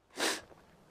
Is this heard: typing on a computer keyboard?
no